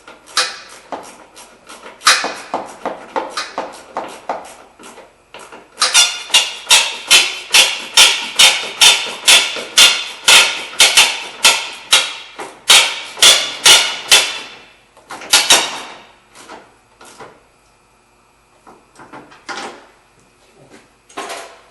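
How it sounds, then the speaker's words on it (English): A ratchet tightens 10mm bolts on a 2003-2009 Mazda 3 headlight assembly, giving loud, close, rapid clicking runs in steady rhythmic bursts with short pauses between them and no voices. "We're going to tighten up some 10mm bolt in the front here."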